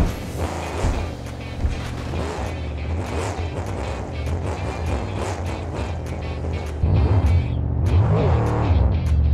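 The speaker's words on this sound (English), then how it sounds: "An even more difficult stunt is the nose wheelie. This is where the driver can keep the truck balanced on the front wheels." A monster truck engine roars and revs steadily during a nose wheelie stunt, growing louder near the end, with no talk.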